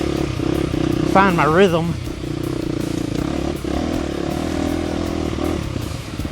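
A 2025 KTM 350 XCF dirt bike drones steadily on a rocky Texas off-road loop, its engine loud and close throughout with clatter over rough ground while a rider talks briefly over it.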